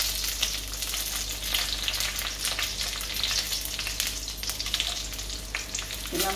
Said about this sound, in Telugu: ధనియాలు వేయించాలి. దీంతో పాటుగా ఒట్టిమిర్చి కూడా వేయిస్తున్నాము.